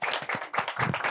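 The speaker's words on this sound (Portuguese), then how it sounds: "Recebam, por favor, com muitas palmas" A studio audience claps to welcome a guest onto a Brazilian comedy and arts talk show, the applause coming in dense, uneven bursts for about a second with no voices over it.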